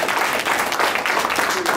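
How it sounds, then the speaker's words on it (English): An audience claps, a loud, close burst of many hands slapping in quick, uneven rhythm, continuing across the whole moment without any talking. "We're gonna start off with a clap."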